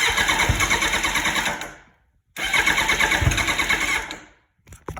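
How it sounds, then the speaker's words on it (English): A Suzuki Bandit motorcycle engine being started on a cold day in Colorado, with two long, loud whirring crank attempts separated by a brief silence and a short sputter at the end. "as soon as I tried to start it and it started getting some juice back from the alternator"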